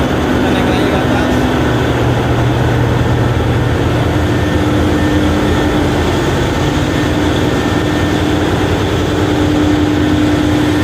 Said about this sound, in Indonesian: Nah, ini dia main engine gua.